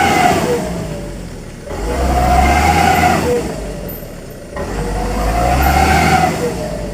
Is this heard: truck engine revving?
yes